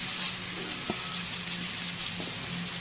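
Fish fries in hot oil in a pan with a loud, steady sizzle and crackle throughout. A couple of faint knocks sound over it, and no one talks.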